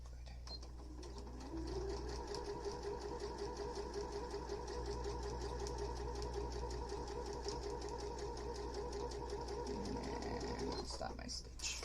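A sewing machine stitches a face mask with a fast, even rhythmic whir that runs close and steady for several seconds before it stops.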